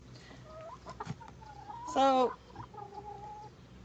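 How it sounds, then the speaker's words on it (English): Chickens at a farm sanctuary give a brief loud burst of squawking clucks in the middle, with softer clucking and calls before and after and a short spoken word early on. "We have lots of chickens here."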